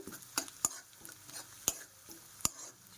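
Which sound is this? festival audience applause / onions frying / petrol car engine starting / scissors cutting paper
onions frying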